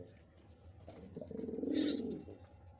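A Chuya Chandan pigeon gives a soft, low, rolling coo that swells and then fades, quiet and close, with only faint background noise.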